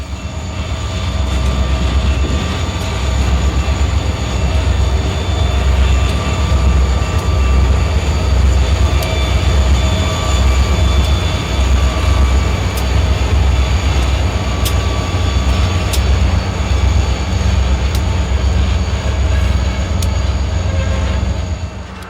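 A 1968 Pan Am Railways EMD GP40 diesel locomotive, number 335 with 3,000 horsepower, hauls a train past, giving a loud, continuous engine drone with rolling rumble and faint periodic clicks of wheels on rail joints.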